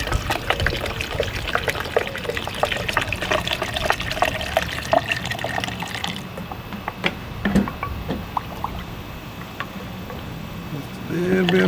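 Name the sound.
water being poured to fill a drink pitcher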